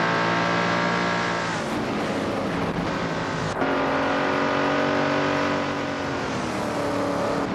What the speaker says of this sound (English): Dishonored Fox has shot off the line with a strong lead